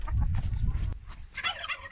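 Turkeys gobbling loudly close by at feeding time in a farm poultry yard, a rapid burst of gobbles followed by higher squawks and clucks.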